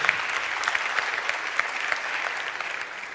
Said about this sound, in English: yeah, thanks, you can applaud.